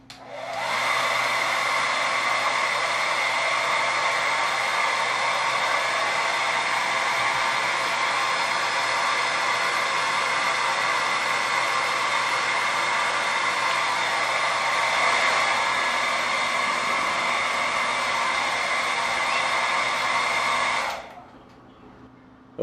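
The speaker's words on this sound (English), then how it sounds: "I have a toaster and hair dryer, and I set the current to 18 amps" Hair dryer and toaster running together during an electrical load test drawing 18 amps, a loud steady whirring blower hum held for about twenty seconds and then switched off abruptly.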